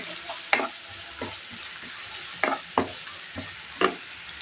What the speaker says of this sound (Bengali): চিংড়ি মাছটাও এর ভিতরে দিয়ে দেবো একটু লাল করে নেব